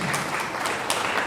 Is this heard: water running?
no